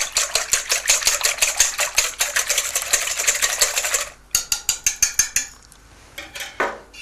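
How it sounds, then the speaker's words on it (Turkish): A wire whisk beats two eggs with water and salt in a bowl, rapid rhythmic metallic scraping strokes, close and loud, pausing briefly before a few final slower beats. "İki yumurtanın içerisine suyu koyuyorum. Ölçülmüş suyu koyuyorum. Tuz da koyuyorum. Telle bir karıştırıyorum."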